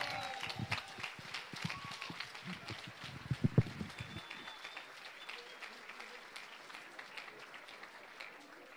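A poetry slam audience claps and makes assorted noises for a performer taking the stage, a scattered, uneven burst that peaks briefly then thins into lighter clapping and murmuring.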